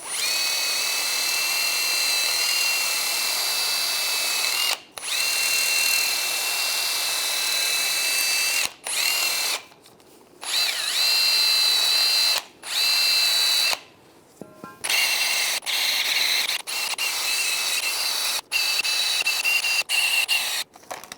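A power tool on a rust-cleaning job on the front brake caliper bracket of a 2006-2009 Mercedes-Benz E350, whining loud and steady in long bursts broken by short pauses, with no talking.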